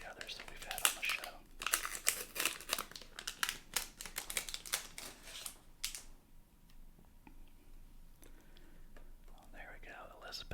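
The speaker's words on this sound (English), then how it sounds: "these packs tear much more quietly than the others that we've had on the show" Historic 1800s autograph hobby packs are torn open up close, giving a burst of soft crinkling and ripping in the first half. Quieter rustling follows under whispering.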